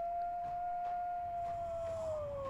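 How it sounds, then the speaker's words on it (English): A wolf howls in the Nancy Drew: White Wolf of Icicle Creek video game. One long, sustained wavering tone slowly falls in pitch over quiet game ambience, with no talk. "It's a wolf."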